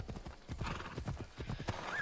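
Horse hooves clip-clop in a steady galloping rhythm in the video game Assassin's Creed Odyssey, with a brief whinny near the end, loud and close throughout.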